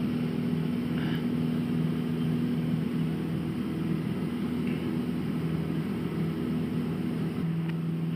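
Small Cessna airplane engine during the takeoff roll, a steady, loud, droning hum with a constant pitch that fills the cabin without a break.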